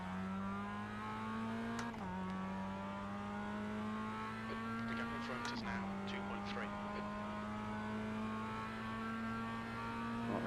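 Mazda MX-5 race car engine lapping Tsukuba in a multi-class iRacing race, a steady high drone whose pitch climbs and drops at gear changes, continuous and loud with tyre and mechanical noise over it.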